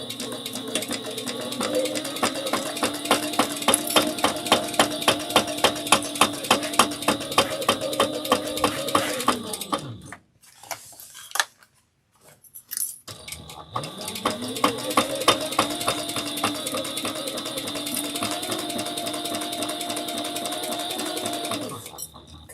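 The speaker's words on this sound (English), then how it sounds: "I'm just going to stay stitch this so it's in place" A sewing machine stay-stitching fabric through a thick, pocketed area, running in a fast steady mechanical rhythm for about ten seconds, pausing briefly with a few handling clicks, then running again at the same pace.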